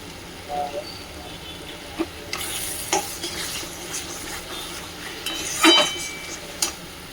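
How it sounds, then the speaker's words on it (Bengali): Potatoes and jackfruit stir-fried in a spiced masala, a low continuous sizzle under repeated scraping and clinks of a spatula against the pan, with a brief louder clatter late on. "এখন এই যে আলু আর এঁচোড়টা দিয়ে দিচ্ছি, দিয়ে আর একটু এই যে ভালো করে কষতে নেব"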